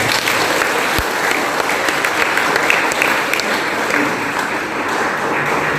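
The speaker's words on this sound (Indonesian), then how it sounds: "Tepuk tangan dulu buat kita semua." A church congregation applauds at an Easter Vigil Mass, a steady, dense roar of many hands clapping that fills the whole stretch evenly without pause.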